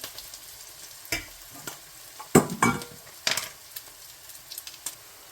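Onions lightly browning in a pan for bhindi masala, a soft sizzle under scattered stirring scrapes and clatters of a spoon, with a few louder bursts of stirring in the middle.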